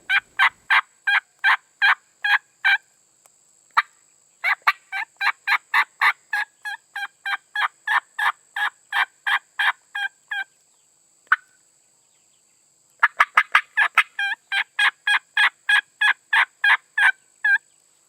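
Rio Grande wild turkeys gobble in repeated rapid bursts, loud and fairly close, with several series broken by short pauses in quiet open country and no talking.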